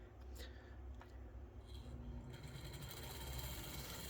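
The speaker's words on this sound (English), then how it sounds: "This is a screwdriver motor is what it is." A screwdriver-type motor in a Roco T669 HO scale model locomotive runs steadily with a constant whirring, buzzing drone, fairly quiet and unchanging, with a few faint clicks over a low mechanical hum.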